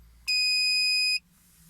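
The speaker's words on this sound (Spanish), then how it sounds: "al presentar el imán se escucha un bip" A car immobilizer's magnetic sensor gives a single steady electronic beep lasting about a second when a magnet is presented, clear against a quiet background.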